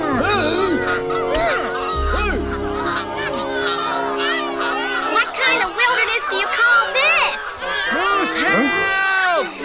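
Cartoon geese honking loudly and repeatedly in a noisy flock near an oil spill in Alaska, the overlapping honks continuing throughout as a character shouts and speaks over them.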